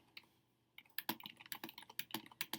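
Quiet, close computer keyboard typing, starting after a short pause and then continuing as a rapid irregular run of light key clicks.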